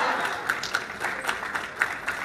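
Audience applause in a Mexican Senate hall during a corn fair, steady dense clapping with a few sharper claps standing out, mid-distance and fairly loud, with no voices on top.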